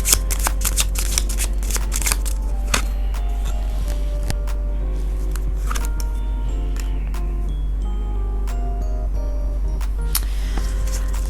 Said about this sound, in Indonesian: Aku akan afirmasi kartu ini.